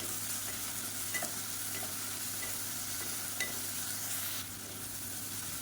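Onion and tomato sizzle steadily in a pan, a continuous frying hiss with a few faint stirring clicks, no talking.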